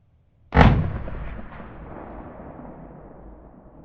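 A single loud rifle shot cracks nearby while a scope is sighted in, its sharp report rolling into a long fading echo over several seconds.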